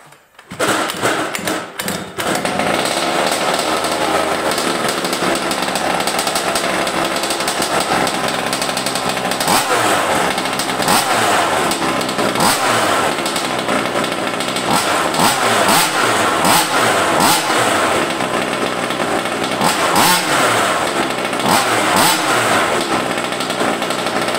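Petrol engine of a Carson Wild Attack RC car, a 1/5-scale HPI Baja 5B clone, catches after a few pull-starts and runs loudly and steadily up close, with repeated throttle blips and revving throughout.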